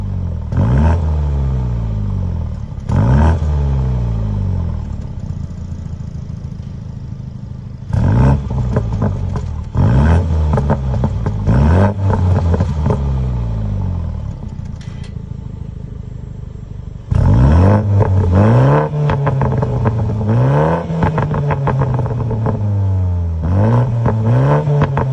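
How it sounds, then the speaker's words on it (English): A 2020 MINI Countryman JCW ALL4 sports exhaust revs repeatedly, climbing and falling through short bursts, then pulls through rising gear sweeps; loud and close with no talking. "you can hear the whole sound of the JCW exhaust, and it sounds freaking amazing"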